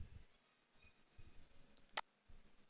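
A single sharp, quiet mouse click on a computer, heard alone against a faint background.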